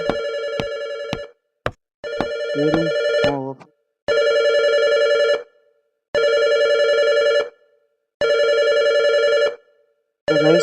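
An electronic telephone in a video game rings in repeated long bursts separated by short pauses, loud and close, with a brief voice between early rings.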